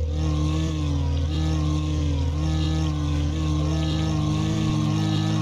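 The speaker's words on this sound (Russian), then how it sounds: "О, серьезный звучок от двигателя" Loud, steady truck engine drone in SnowRunner with a low rumble and humming tones, rising slightly in pitch as it revs, continuous throughout.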